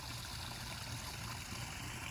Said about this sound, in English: If it's a fountain like this, a waterfall, whatever you call it.